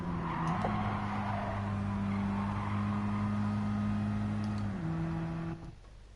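Race car engine in a racing video game at Laguna Seca, a steady, loud droning tone that holds pitch, shifts up briefly near the end, then cuts off abruptly, with no voices.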